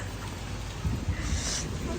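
Heavy rain falls in a steady, loud outdoor downpour, a dense continuous hiss with a low rumble underneath throughout, and no clear speech.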